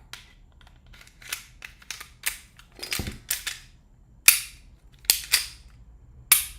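A Glock pistol being handled and its mechanism worked, giving a series of sharp, close metallic clicks and snaps spaced irregularly across the stretch, several crisp and loud, with no speech.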